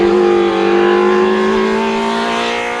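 A Ford Escort Mark II Class 2 race car at a hill climb holds a loud, close, sustained engine drone at high revs, pitch easing slightly as it pulls away.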